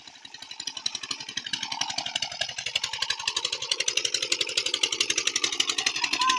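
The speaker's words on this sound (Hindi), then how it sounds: "ट्यूबवेल चल रहा है" A village tube well pump engine runs close by, a loud, fast, evenly pulsing diesel chug that holds steady throughout with no talk over it.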